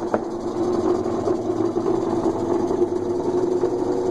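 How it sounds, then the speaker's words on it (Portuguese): An Electrolux LTE12 washing machine, fitted with a swapped-in pulley, belt and motor from an LTE9, runs its spin cycle. The motor gives a steady, droning whir with a faint rattle, close and constant throughout. "centrifugação"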